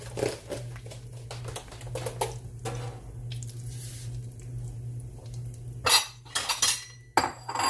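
Cornmeal batter with a little brown sugar being whisked in a bowl for corn pones, a steady run of soft scraping clinks of whisk against the bowl, close, ending in a few sharper knocks.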